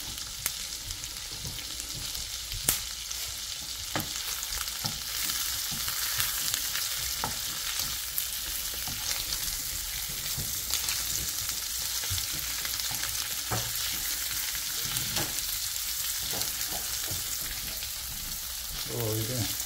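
Freshly caught fish from the Humber fry steadily in a pan, a continuous close sizzle with occasional scrapes and knocks as the pieces are flipped.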